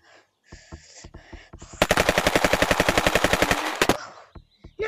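A rapid burst of Uzi fire in the Gorilla Tag VR game, a dense string of sharp synthetic shots at a fast even rate, loud and close, preceded by a few scattered single shots.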